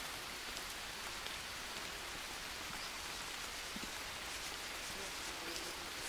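Heavy rain pours down in the jungle survival game Green Hell, a constant soft hiss of drops on foliage and ground that stays steady and alone.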